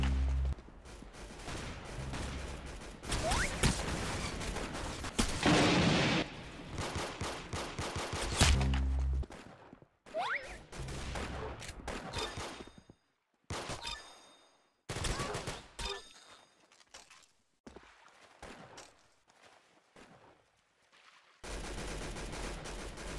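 Gunfire from the Roblox shooter Arsenal crackles in rapid bursts with brief silent gaps between, fairly quiet and game-like, repeating across the stretch.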